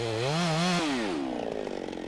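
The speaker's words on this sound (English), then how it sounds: "First, with his chainsaw, Rick does a notch called a side cut on the side facing the direction he wants the tree to fall." Chainsaw cutting a side-cut notch into a standing tree during logging, close and loud, engine pitch wavering then dropping as the chain bites into the wood.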